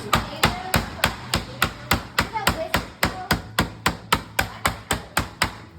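A meat hammer pounds pork in a steady, even rhythm, about three sharp thuds per second, loud and close with a faint background hum.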